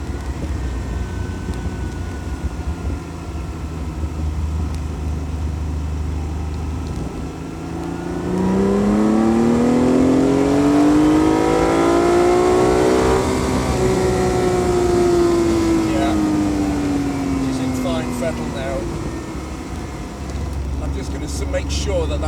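A Ferrari Dino 246 GTS engine being driven, climbing in a long rising rev that peaks and then eases back down, loud and near over a steady road rumble, with someone talking through parts of it.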